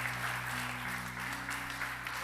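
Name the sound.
congregation applause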